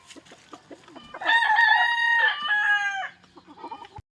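A rooster crows loudly once, a long harmonic call, with softer clucking and small farmyard noises before and after.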